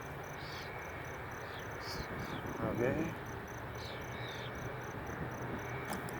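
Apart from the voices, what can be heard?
honey bees buzzing at an open hive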